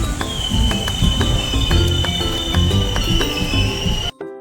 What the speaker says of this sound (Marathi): आपली ट्रेन आणि आपण थिवीमला फायनली पोहोचलो आहे